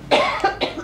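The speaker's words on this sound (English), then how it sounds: "It's just a cough." One short, close cough from a woman, a single harsh burst followed by a couple of weaker catches, heard alone.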